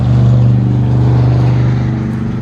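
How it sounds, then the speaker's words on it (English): A truck drives past beyond a backyard fence, a steady low engine drone and road rumble that swells and holds throughout, fairly loud and heard alone. "That's that truck"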